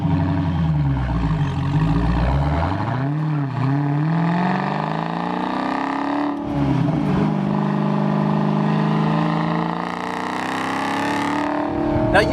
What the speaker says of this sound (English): the party piece of this car is that Hellcat engine